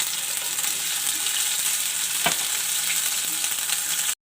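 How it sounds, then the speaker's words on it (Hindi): Garlic fried in hot ghee in a pan gives a steady, close sizzle with a brief stir or clatter midway, and no talking. "लहसुन को हल्का सा फ्राई करेंगे।"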